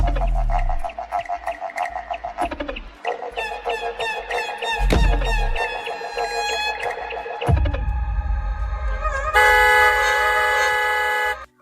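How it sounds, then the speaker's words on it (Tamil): A run of different car horns sounds one after another at a car accessories shop in Chennai. There are honks, a rooster-like crowing horn, clucking tones and a long bright multi-tone blast. The horns are loud and close, with short gaps between them. "சென்னை கார் ஆக்சரிஸ்ல நம்ம வந்து வேரியன்ட் ஆஃப் ஹார்ன் டைப்ஸ் வச்சிருக்கோம்."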